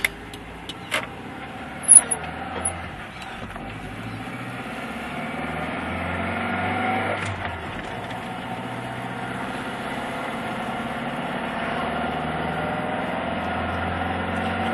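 A Jaguar XJ6 Series 3 with a 5-speed manual gearbox climbs a steep hill, its engine droning steadily from inside the cabin, with a few small clicks early and the low hum building slightly under load.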